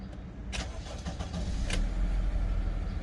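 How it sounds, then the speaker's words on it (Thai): A 2002 Honda CR-V 2.0 i-VTEC 4WD starting: a quick key click and short starter crank at about half a second, then the engine catches and settles into a steady, close idle. "สตาร์ตติดง่ายนะครับ ชึ่งเดียวติดเลยครับผม"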